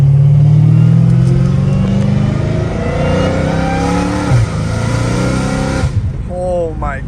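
A supercharged Dodge Hellcat Redeye revs hard up close, its engine note climbing and falling with rising harmonics and a high supercharger whine layered on top. The engine drops away near the end as a voice speaks.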